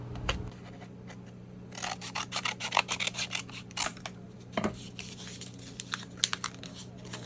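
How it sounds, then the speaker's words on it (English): Scissors snip through paper in a run of quick crisp cuts, close-up and moderately loud, with faint rustling of the sheet between strokes. "Mine was a little bit too thick, so I'm just going to cut off some of the paper."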